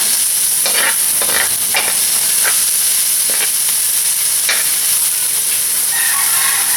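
Onion and ginger sautéing in a pan for a sweet and salty mud crab dish: a loud, steady sizzle broken by repeated scraping stir strokes throughout, with no talking.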